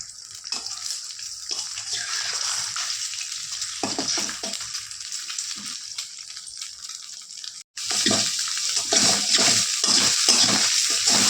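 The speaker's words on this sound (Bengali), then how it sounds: "ডিম ভাজা হচ্ছে।" An egg frying in a pan with onion for a home breakfast, a steady crackling sizzle that runs continuously, briefly dropping out once before resuming strongly.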